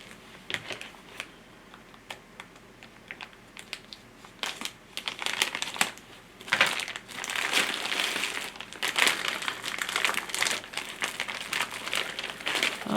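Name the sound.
plastic wrapping around pillow crinkling as it is cut open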